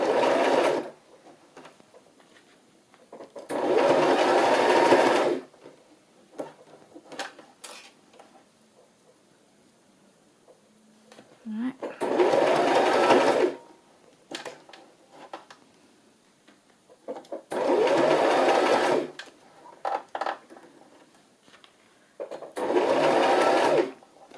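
A sewing machine back-stitches fabric while making ruffles and corner pockets, running in five loud bursts of a few seconds each, separated by quieter gaps of small clicks and handling noises.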